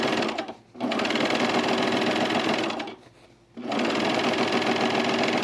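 A serger sewing machine stitches along the seam of men's chino pants, its rapid motor whir running loud and steady in two long bursts broken by brief pauses.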